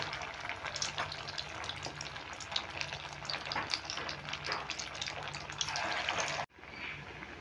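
Slices of bread pakora fry in hot oil, a steady dense crackling sizzle running throughout before cutting off abruptly near the end.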